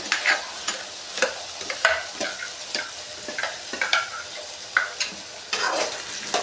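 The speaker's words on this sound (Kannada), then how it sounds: "ಸ್ವಲ್ಪ ಆಲೂಗೆಡ್ಡೆ ಫ್ರೈ ಮಾಡ್ಕೊಂಡಾದ್ಮೇಲೆ ಮಸಾಲೆನ ಹಾಕೋತಾ ಇದ್ದೀನಿ" Potatoes frying in a pan with masala stirred in, for a Mandya-style egg sambar, repeated scraping stirring strokes in an irregular rhythm over a soft sizzle, close and fairly loud.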